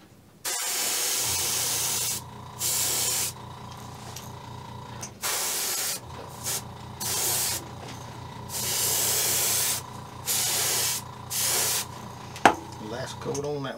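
Bursts of spray paint hissing onto a fishing bait for its final coat, about eight bursts of one to two seconds each separated by short pauses, with a low steady hum underneath and a sharp click near the end.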